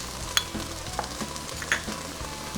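Onions sautéing in a pan for shepherd's pie, a steady close sizzle with a few sharp stirring scrapes and clinks of a utensil against the pan, no voices.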